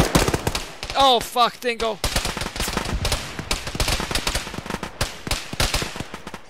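Automatic gunfire rattles in a tactical military shooter during a friendly-fire incident, a dense burst of rapid close shots with a shouted voice partway through, continuing under more chatter.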